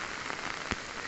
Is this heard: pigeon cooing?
no